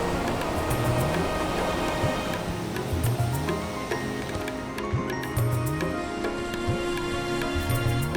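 Near Quebec City, a waterfall pours down with a dense, steady rumble and wash of falling water, heavy and continuous, with faint voices now and then beneath it.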